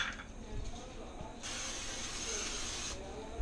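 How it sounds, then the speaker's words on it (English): Cooking spray bursts onto a hot pan in a steady hiss lasting about a second and a half, close and clear over a quieter background hiss. "I guess I could use spray"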